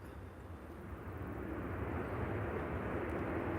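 An airliner touching down at Liverpool John Lennon Airport, a broad, steady roar of engines and rolling rumble that swells and holds, heard from a distance with no talk.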